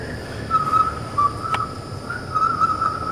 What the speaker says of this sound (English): Coupled with the whistling.